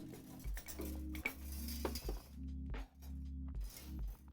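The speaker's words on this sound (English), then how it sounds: "let's do this bigger whisk" A bigger whisk beats rhythmically against a bowl during home cooking, with quick repeated metallic scrapes and clinks, fairly loud and close, no talking.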